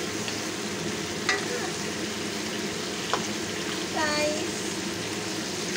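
Oxtail fries in a pan with a continuous sizzle, broken by a few sharp scrapes of stirring and a brief clatter of the utensil; the sizzling stays moderately close and steady.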